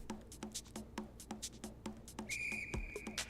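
A whistled melody rises in the Stardew Valley game music, a clear high tone over a plucked, rhythmic backing with regular percussive beats, fairly quiet overall.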